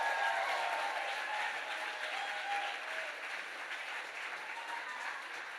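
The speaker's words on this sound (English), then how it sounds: "Can we get one really big round of applause for all of the amazing artists that you've already seen tonight?" Sustained applause from a gala audience, a dense wash of clapping that starts loud and gradually eases off over several seconds, with no speech over it.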